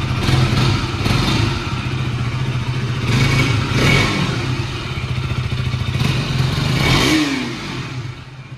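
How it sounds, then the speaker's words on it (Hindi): KTM RC 200 MotoGP edition motorcycle engine idling steadily and revving in repeated throttle blips, loud and close with no talking. "इंजन साउंड का भी अगर बात करें, मैं इंजन साउंड भी आपको सुना दूंगा थोड़ा"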